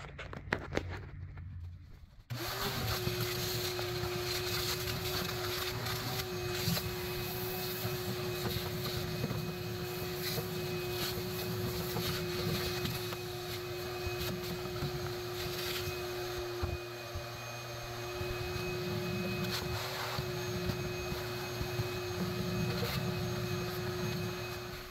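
A vacuum cleans out the pilot and burner assembly of a gas water heater that keeps losing its pilot. After a brief start-up it holds a steady, close droning hum to the end, alongside faint handling noises.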